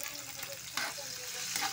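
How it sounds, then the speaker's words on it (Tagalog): Onion and garlic sauté in a hot pan for a Filipino gisado with black mushroom and crab, a steady close sizzle with faint stirring scrapes and no talk. "gisa na tayo ng sibuyas, bawang"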